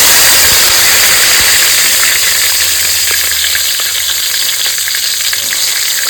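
Cinnamon, cardamom, bay leaf and a little sugar hit hot oil for a light chicken curry, a loud hissing sizzle that crackles steadily and eases slightly over several seconds, close and without talk.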